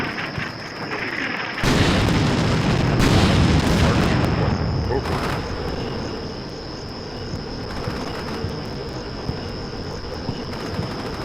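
Artillery fire for effect in the video game Combat Mission: Shock Force 2 sets off a loud, sustained rumbling barrage of booms that starts abruptly and slowly fades into a steady background of distant rumble.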